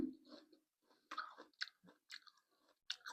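Crunchy candied jujube fruit (Thai Isan snack) chewed close to the mic, several wet crisp bites and chews in uneven bursts, loud and with no talk.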